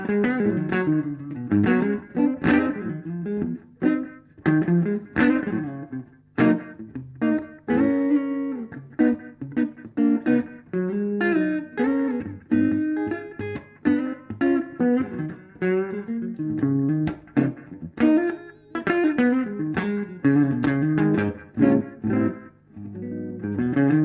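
A vintage electric guitar plays a clean lead line with a short slapback echo. Notes are picked in phrases with frequent pauses, with no talking over the playing.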